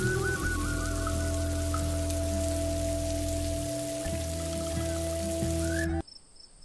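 Steady rain patters continuously under a low droning hum, then stops abruptly near the end.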